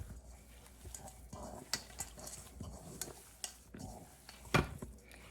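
Taco meat mixed with spices being squished and worked by hand or utensil in a bowl, soft close wet squelches and scrapes in an uneven rhythm, with a sharper knock near the end.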